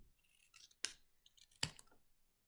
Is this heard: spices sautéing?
no